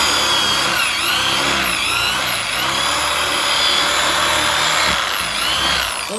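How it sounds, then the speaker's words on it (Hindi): An electric drill machine bores a hole, its motor whining loud and close in a steady high-pitched drone with slight rises and dips in pitch, running alone without talk. "ये हमारा ड्रिल मशीन से छेद हो गया है"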